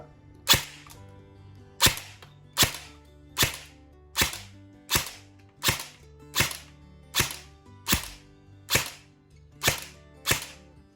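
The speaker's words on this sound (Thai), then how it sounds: "ยิง10 นัดเข้าเซฟ อันนี้ ผมเทสความแรงให้ดูนะ" MK18 E&C airsoft electric gun test-firing single shots, about a dozen sharp close cracks at a steady rhythm, roughly one per second, with no talking.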